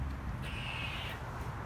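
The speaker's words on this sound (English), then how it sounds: "Oh, that is the squirrel." A squirrel gives a thin, high call that lasts under a second, at middle distance. Low steady background noise continues throughout.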